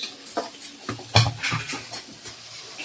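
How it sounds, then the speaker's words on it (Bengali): A spice paste for a mirka fish dish is fried and stirred in a pan, giving a series of close scraping and clinking strokes over a soft sizzle, in an uneven rhythm. "এই যে মশলা কষাই নিতেছে"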